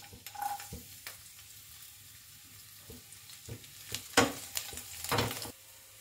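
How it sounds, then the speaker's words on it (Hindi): Garlic cloves frying in hot oil in a pan while radish bhujiya is made: a sizzle with crackles and spatters, and louder pops and stirring bursts toward the end. "लहसुन की कलियां डालते हैं।"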